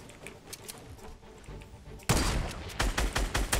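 Rapid gunfire rattles during a Fortnite Battle Royale match, starting as faint distant shots and then turning into loud close bursts of repeated reports, with no talking.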